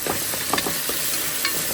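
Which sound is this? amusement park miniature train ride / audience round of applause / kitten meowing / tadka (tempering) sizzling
tadka (tempering) sizzling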